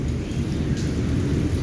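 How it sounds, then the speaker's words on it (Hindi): Rain starts falling lightly on a rainy day in the hills of Sehnsa, Chatran, a steady soft hiss with a low distant rumble of thunder underneath. "आस्ते आस्ते बारिश शुरू हो गई है"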